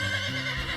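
Horse neigh ringtone on a cartoon phone rings out as a short, whinnying burst, clear and alone.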